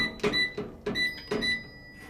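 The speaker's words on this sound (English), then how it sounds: "And there goes my phone, being my phone." A phone's notification chime goes off in a hotel room as three quick repeating tone bursts, clear and close, each with a bright attack and a short decaying ring.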